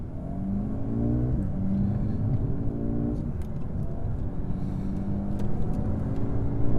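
Inside a Mercedes-AMG A35 sedan on a twisty back road, the engine hums and rises and falls in pitch, with tonal harmonics shifting as the car accelerates through bends over steady road noise.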